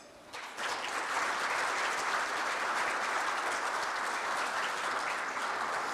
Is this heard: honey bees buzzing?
no